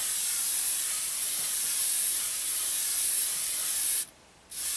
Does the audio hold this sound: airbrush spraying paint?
yes